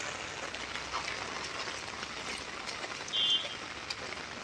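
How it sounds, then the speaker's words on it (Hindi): Steady rain falls continuously after three days of downpour, a soft, even broadband hiss of drops on wet surfaces with standing water around, uniform and unbroken throughout with no voices. "तीन दिन से लगातार बारिश हो रही है।"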